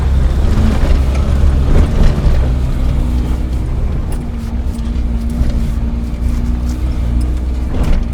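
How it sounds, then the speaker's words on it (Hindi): A 24-year-old Maruti 800 car engine strains loudly as it accelerates uphill on a narrow road, a steady close droning hum that rises slightly, with no talking over it. "यहाँ पे खींचनी पड़ेगी एक्सीलेटर।"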